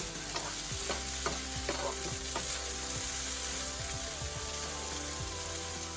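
Pieces of food fry gently in a pan on low heat, giving a steady soft sizzle with scattered small pops and occasional stirring scrapes, close and even throughout.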